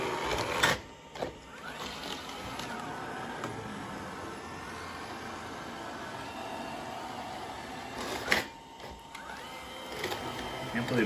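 An iRobot Roomba S9+ robot vacuum runs its spin brush over carpet with a low, steady motorized whir, broken by a couple of brief louder bumps and scrapes near the start and again later.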